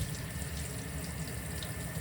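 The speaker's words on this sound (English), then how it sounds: "I'm spraying my boot, and you can see the water's running pretty clear." A spray nozzle rinses a dyed boot with water, giving a continuous, even hiss and splash of running water close by, with no talking.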